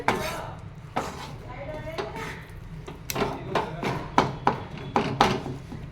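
A spoon scrapes and knocks against a pan while jaggery sukhdi mixture is stirred with the gas off, a run of irregular close metallic clinks and scrapes, with a voice talking at moments.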